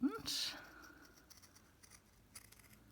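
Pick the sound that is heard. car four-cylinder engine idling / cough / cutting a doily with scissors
cutting a doily with scissors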